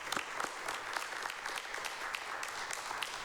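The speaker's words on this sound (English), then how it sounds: "a round of applause for them" A school committee meeting audience applauds steadily, a dense wash of many hands clapping at moderate distance with no talk over it.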